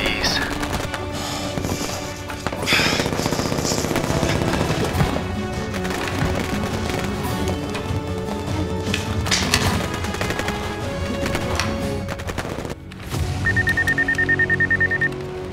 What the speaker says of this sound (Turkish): O silah sesleri ne?